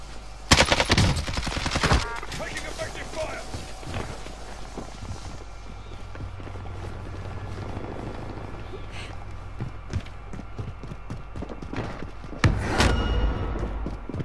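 Gunfire in the battle royale game Warzone: loud, close bursts of rapid shots at the start and again near the end, with scattered quieter shots and movement sounds between them.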